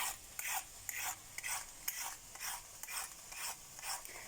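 Carrots are scraped with a peeler in steady, rhythmic top-to-bottom strokes, about eight short raspy swipes in a row, close and fairly quiet with no talking.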